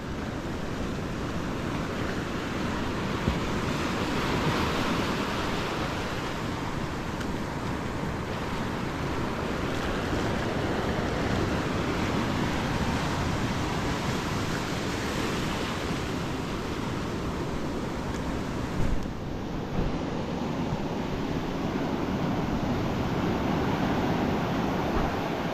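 Ocean waves crash and wash continuously at close range, a loud, dense roar of rough surf with gusting wind blowing across the microphone throughout.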